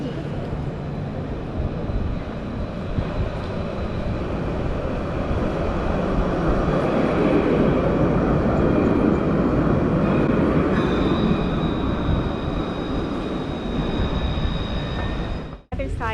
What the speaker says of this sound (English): behind me is our tram, so it's easy to catch.